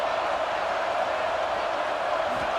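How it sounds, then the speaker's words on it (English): Stadium crowd noise in a college football video game, Ohio State versus Oklahoma: a dense, constant roar from a large crowd that holds at a steady level, with no clear breaks. "And wow, listen to this crowd noise. This stadium is vibrating."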